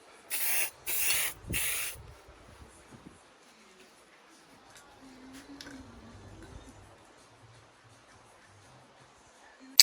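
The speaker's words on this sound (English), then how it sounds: "Just give it a matte black spray." Three short, loud bursts of matte black aerosol spray paint hiss close by in quick succession onto a petrol hedge trimmer, followed by quiet handling noises and a faint low hum.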